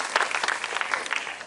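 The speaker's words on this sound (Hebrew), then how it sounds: "אפשר למחול להם כפיים, בניהולו של עמוס סעד, עינת לאור ואפרת ילין" An audience at a dance company's tenth-anniversary premiere applauding a dance troupe, a dense burst of many hands clapping close and steady.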